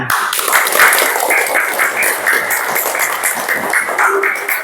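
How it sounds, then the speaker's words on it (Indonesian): Children clapping their hands in a classroom, a loud, continuous burst of clapping that runs evenly throughout. "Tepuk tangan."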